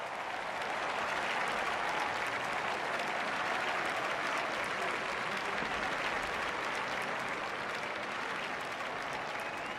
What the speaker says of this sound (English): The crowd applaud.